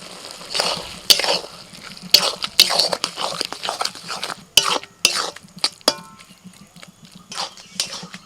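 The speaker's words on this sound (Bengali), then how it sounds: "মশলা দিয়ে নাড়াচাড়া করতে করতে" A spoon scrapes and clinks against a pan while a thick ground spice paste for a pea and spinach curry is stirred, in irregular knocks and scrapes over a faint sizzle.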